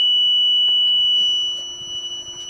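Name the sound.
3 kHz sine wave test tone through amplifier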